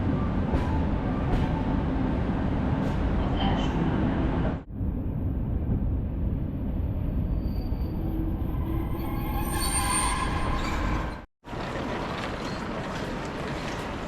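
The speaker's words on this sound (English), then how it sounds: "arriving beneath its majestic train shed while leaning out of an open train window is an absolute treat" A train pulls in beneath the great shed of Budapest Keleti station, with a steady rumbling roll, high wheel squeals, a brief drop in noise partway through and a near sudden break shortly before the end.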